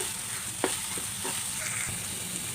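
A papaya bharta mixture cooks in a pan, giving a steady sizzle with a few light stirring scrapes and taps, close and moderately quiet, with no voices.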